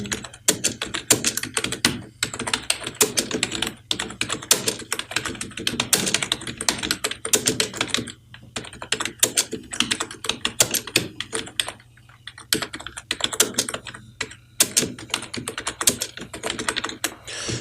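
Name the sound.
typing text on a computer keyboard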